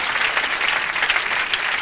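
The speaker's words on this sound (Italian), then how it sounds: "un applauso a questa signorina che arriva" Theatre audience applauding a young woman volunteer coming up on stage at a comedy magic show, a dense, even wash of clapping close and loud throughout.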